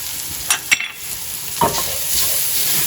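Minced garlic stirred into a sauteing tomato sauce base for Sunday gravy and Bolognese, a couple of brisk spoon scrapes and knocks against the pan over a steady, close sizzle, no talking.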